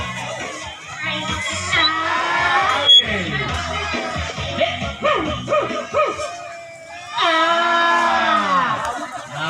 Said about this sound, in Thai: เอาเชียร์ได้เลยครับเชียร์ได้เลยครับ